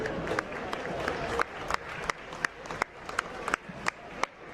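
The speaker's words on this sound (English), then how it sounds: "Round of applause for them." Crowd applause in a high school gym before a varsity boys basketball game, scattered clapping with sharp repeated claps standing out over steady crowd murmur.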